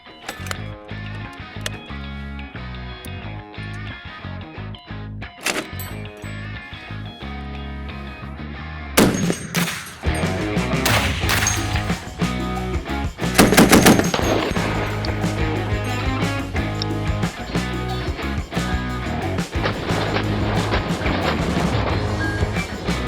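A 12.7 mm .50 BMG machine gun mounted on a Spartan FV-103 armoured vehicle fires loud bursts of rapid shots, first sharp and spaced, then a dense sustained roar of gunfire with no talking.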